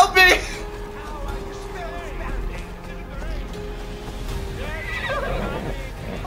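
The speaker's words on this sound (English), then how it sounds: "Horse! Horse! To me!" A horse neighs and whinnies in the video game Assassin's Creed Odyssey, with a loud whinny at the start and another near the end over a low ambient rumble, with speech heard.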